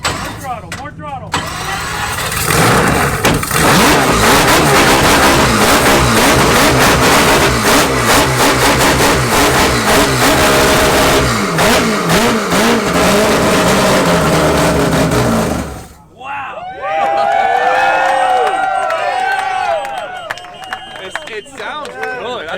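A four-rotor Toyota Supra engine at its first start revs hard and loud for about fifteen seconds in a dense, buzzing roar, then drops briefly before lighter revs return, with excited crowd shouts and voices mixed in throughout.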